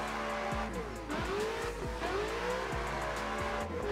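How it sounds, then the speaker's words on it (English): A drift car spins out in the Assetto Corsa racing game, with loud tire squeal and skidding over a revving engine whose pitch repeatedly rises and drops, all without talking. "No, and he spun out."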